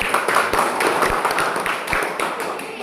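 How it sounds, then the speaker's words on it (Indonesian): A school class applauding a student group after a question-and-answer session, a brisk scatter of many hands clapping at even, moderate loudness with sharp individual claps standing out. "Tepuk tangan untuk kelompok"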